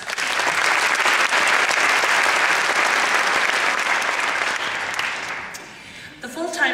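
Sustained applause from a large audience fills a nursing pinning ceremony hall, staying loud for several seconds before fading near the end.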